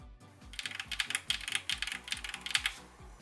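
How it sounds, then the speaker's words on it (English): Rapid, steady typing on a stock DIY mechanical keyboard with a 3D printed plate, close up, with crisp clacking keystrokes tumbling over one another in a continuous run and noticeable ping. "there is quite a bit of ping in the keyboard while it's stock"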